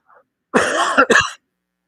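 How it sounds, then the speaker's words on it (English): Two quick, close coughs in a row, loud and rough, with near silence before and after. "Yes, I'm the one coughing."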